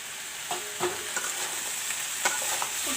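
Tomatoes sizzle steadily in a hot pan while a spoon scrapes and stirs through them at intervals, close and moderately loud, with no voices.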